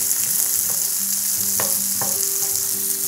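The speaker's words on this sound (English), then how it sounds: "crumble the Italian sausage into the skillet" Crumbled Italian sausage fries in melted butter in a skillet, a constant close sizzle broken by a few sharp spatula scrapes and taps, with a soft musical tone underneath and no talk.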